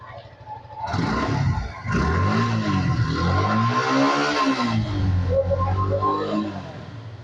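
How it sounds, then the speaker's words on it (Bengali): A motorcycle engine runs close by and is revved repeatedly, its pitch rising and falling in loud, sustained sweeps for several seconds after a brief quieter start. "আমরা যদি বাইকের সাউন্ডটা শোনানোর চেষ্টা করছি আপনাদেরকে"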